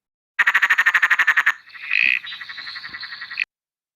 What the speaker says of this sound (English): This little frog's hiding. They've got a much shorter call.